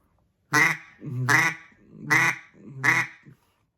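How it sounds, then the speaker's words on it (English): A basic quack blown on a handheld duck call: four loud, evenly spaced, nasal quacks sound close up and alone, with short gaps between them. "that's just your basic quack."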